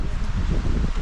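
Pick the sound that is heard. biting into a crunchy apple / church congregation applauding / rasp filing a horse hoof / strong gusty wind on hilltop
strong gusty wind on hilltop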